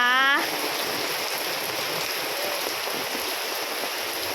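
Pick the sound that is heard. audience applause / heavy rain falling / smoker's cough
heavy rain falling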